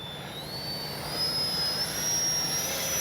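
An E-flite 64mm Viper RC jet's electric ducted-fan motor runs with a steady high-pitched whine and a rising tone, sounding loud and close with no talking.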